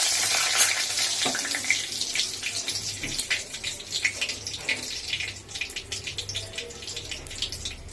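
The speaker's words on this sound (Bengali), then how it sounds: "এবার তেলের মধ্যে এই যে তেজপাতা দিয়ে দিল।" Bay leaves crackle and sizzle in hot oil in a kadai wok, a steady close-up frying hiss broken by sharp pops and spits throughout.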